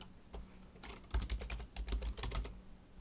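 Card details are typed on a computer keyboard in quick irregular bursts of soft clicks, close and quiet, with no one talking during the keystrokes.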